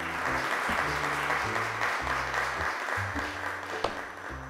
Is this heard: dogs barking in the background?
no